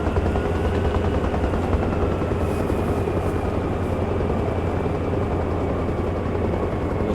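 A helicopter sets down on a helipad in the Arma Reforger game, its rotor thudding in a dense, constant rhythm under a steady engine drone, loud and close throughout.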